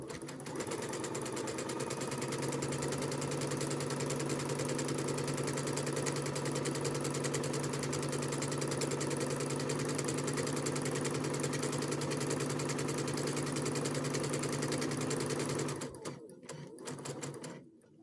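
A sewing machine runs steadily for about fifteen seconds, stitching long gathering stitches along the top edge of a doll skirt, close and even with a constant hum, before stopping abruptly near the end.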